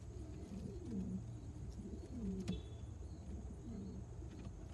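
A German Beauty Homer pigeon coos softly in a loft, with a few low, rolling calls repeating at moderate distance over steady faint background noise.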